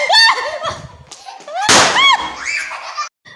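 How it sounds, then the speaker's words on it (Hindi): A firecracker thrown and bursting during Eid celebrations: a sharp loud bang midway, surrounded by excited voices and squeals close by. "पटाखा फेंका"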